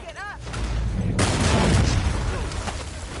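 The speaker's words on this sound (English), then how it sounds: "that explosion was really cool sounding, actually" A big explosion in the video game Uncharted 4 erupts after a short, fainter passage and fills the rest of the moment with a loud, broad roar that slowly tails off.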